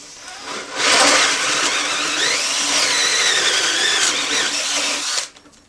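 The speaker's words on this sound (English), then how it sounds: "We'll drill another hole." A power drill driving a hole cutter whines up to speed and bores a hole for several seconds, its pitch wavering under load before it stops abruptly.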